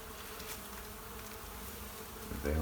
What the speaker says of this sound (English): I grabbed right on 2 bees and they didn't like it.